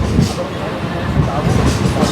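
A Mumbai local train on the CSMT–Panvel line rolls along past Vashi with a loud continuous rumble and rhythmic wheel clatter from inside the carriage, with voices faintly mixed in.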